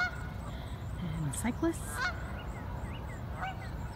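Geese honk at a campus duck pond, several short calls close together mid-clip with a few fainter ones after, over outdoor background and a brief spoken phrase.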